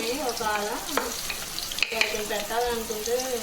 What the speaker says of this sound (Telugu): ఇప్పుడు హీట్ ఎక్కిన తర్వాత ఆనియన్, పచ్చిమిర్చి వేసుకుంటాను. ఇవి వేసుకొని వేయించుకోవాలి.